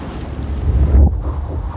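Steady rushing wind buffets with low rumbling gusts, swelling briefly before easing off, with no voices.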